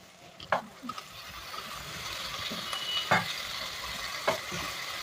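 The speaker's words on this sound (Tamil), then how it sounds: "இப்போ கட் பண்ணி வச்சுருக்கிற தக்காளியை போட்டுக்கலாம்." Ginger-garlic paste and chopped tomatoes sauté in a pan for a South Indian vadacurry, with a steady sizzle and a few sharp scraping stirs of a spoon against the pan. The sound is close, and nobody speaks.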